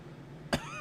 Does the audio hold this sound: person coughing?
yes